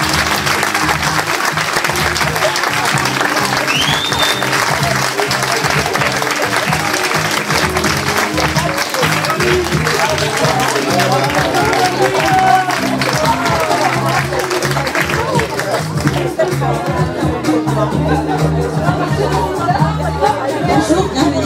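Audience clapping for four contestants on stage at a staff event, sustained applause mixed with crowd chatter and voices talking over it, fading somewhat near the end.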